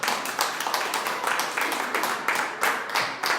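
A church congregation claps in a quick, fairly regular rhythm, a bright, close patter of many hands keeping time together without voices over it.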